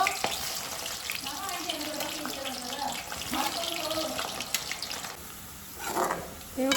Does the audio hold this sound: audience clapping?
no